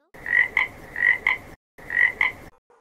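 A frog croaks in three short bursts, each a rasping double call with a brief pause between, fairly close and loud against a quiet background.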